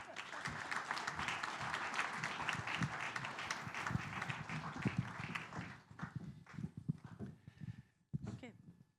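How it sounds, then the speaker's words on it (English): Audience at a panel event on America's changing role in the Middle East applauding the expert panel, dense clapping that thins out after about six seconds into a few scattered claps and faint room noise. "So while I take my seat, you can applaud our expert"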